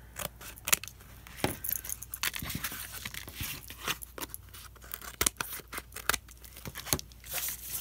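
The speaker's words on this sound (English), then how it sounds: "Act like I never used a pair of scissors before." Scissors cut through a cardboard toilet paper roll in a run of sharp snips and crunches, close and irregular, with faint rustling of the cardboard between cuts and no talk.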